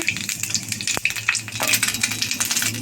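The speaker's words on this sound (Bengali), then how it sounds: "কড়ায় আর একটু তেল দিয়ে দেব দিয়ে গোটা গোটা জিরে ফোড়ঙে দিলাম" Whole cumin seeds crackle and sizzle in hot oil in a wok while an egg curry is being made. The frying is close and busy, with a sharp knock near the start and stirring scrapes over it.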